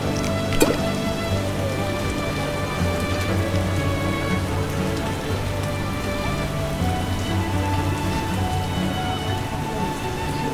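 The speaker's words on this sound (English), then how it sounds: "Raining cats and dogs." Heavy rain pours in The Witcher video game, a dense, steady hiss of drops drumming on surfaces throughout, with a faint musical drone underneath and one brief sharp knock near the start; no talking.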